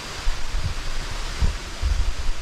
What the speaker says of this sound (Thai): อันนี้คือน้ำตกตาดหอยคั่ว